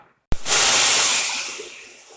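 Steam hisses loudly from a pressure canner vent while carrots are being canned, a sudden onset followed by a steady, sustained rush that slowly eases over about two seconds, with no voices.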